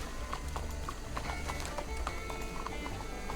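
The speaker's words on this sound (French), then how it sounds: "C'est le cheval de Madame Emerson, ça en plus" Horse hooves clip-clop at a steady trot in the Western video game Red Dead Redemption, the rhythmic clopping close and continuous over a busy ambient background.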